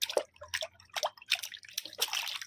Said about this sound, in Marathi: त्यात सानू रडत होती तर आम्ही सानूला बसवले पाण्यात.